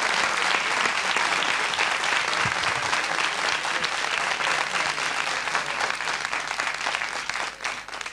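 Sustained, dense applause from a live audience at a televised music program honoring the musicians, loud and continuous for about eight seconds before easing slightly at the end, with no speech over it.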